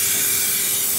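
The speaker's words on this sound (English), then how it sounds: "So now I'll just fold over this side, spray glue, and stick it down." Spray adhesive hissing steadily from an aerosol can onto car underlay during a Triumph TR6 interior restoration, a close, continuous one-second burst with no talk.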